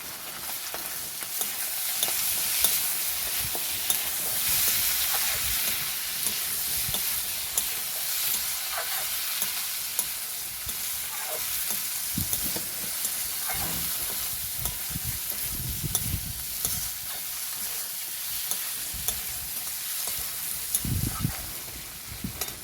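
Chopped tomato fries with carrot for a carrot and fenugreek greens curry. A continuous close sizzle runs throughout, with repeated spoon scrapes and soft clatters from stirring and no voices.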